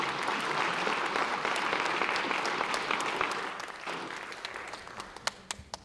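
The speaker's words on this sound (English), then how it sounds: "Let's give him a big round of applause." At a regular board meeting in Laredo, an audience applauds local physician Dr. Michael Hockman, steady clapping that fades after a few seconds into a handful of sharp, isolated claps.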